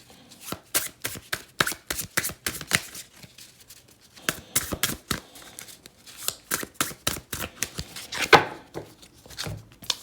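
A deck of tarot cards is shuffled by hand, a long run of rapid, crisp riffling snaps and slaps in uneven bursts, close and clear with no talking.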